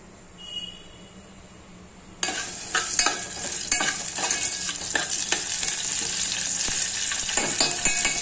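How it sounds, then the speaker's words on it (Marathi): Red chilies are dropped into hot oil with curry leaves, cumin and mustard seeds for an idli chutney tempering. A quiet start bursts into loud, steady sizzling and crackling, with occasional spoon scrapes and clinks against the pan. "आता इकडे आहे ना हा कढीपत्ता टाकलेला आहे आणि हे जिरी मोहरी टाकलेली आहे फोडणीमध्ये"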